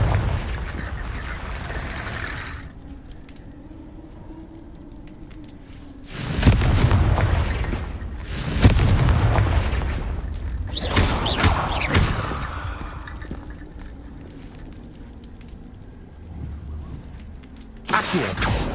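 Confringo fire spells burst in the Hogwarts Legacy video game, with several loud booming explosions set apart by quieter stretches of ambient game sound. One burst comes near the start, a cluster falls in the middle, and a final blast lands at the end.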